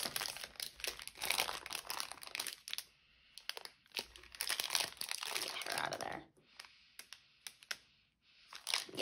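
Plastic packaging of a Fantasy Wax snap bar crinkling in close, bursty rustles with brief pauses, quiet overall.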